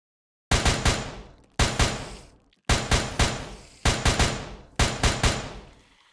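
Loud guns in the SCP Recontainment video game fire in five sharp bursts, each a quick cluster of three or four cracking shots with ringing decay, separated by brief pauses and heard alone without voices.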